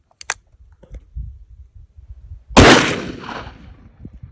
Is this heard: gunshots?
yes